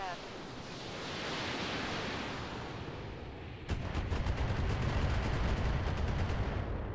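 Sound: mech weapons fire in Roguetech BattleTech mod, video game

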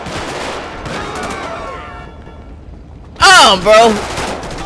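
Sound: gunfire at cops in video game GTA 5

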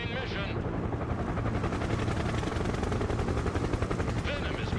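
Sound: helicopters from the video game Broken Arrow

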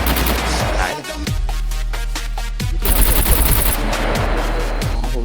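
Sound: gunfire from the video game SCUM

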